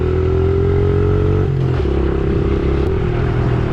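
A Honda CRF 110 mini dirt bike engine labouring uphill on a trail, a loud, steady, close drone with rattling and clatter and a slight shift in pitch partway through.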